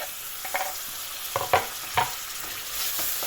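A few scraping stirs in a frying pan of tomatoes and chili peppers, spaced short strokes over a soft, steady sizzle.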